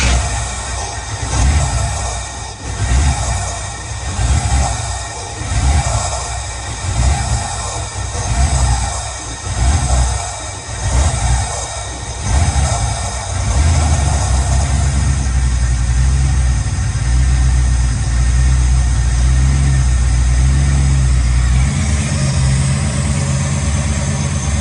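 A 1965 Chevrolet Nova engine fires up for the first time and settles into a steady idle, loud and close, with uneven pulsing revs early on before the idle evens out into a constant low rumble.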